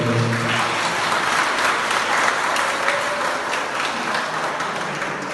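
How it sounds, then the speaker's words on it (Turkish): Loud, dense applause from a wedding crowd, steady and unbroken throughout, with a faint voice or two underneath. "şöyle kuvvetli alkış alalım"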